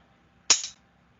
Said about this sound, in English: I found some toaster tongs.